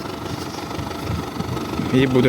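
A tractor fitted with a front loader, used for snow clearing, idles with a steady low rumble at close range while someone talks over it and a brief tonal whine rises at the end.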